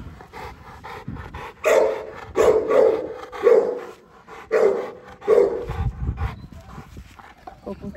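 A Fila Brasileiro dog gives about five deep, close barks or huffs in a loose rhythm. Voices and background noise run underneath.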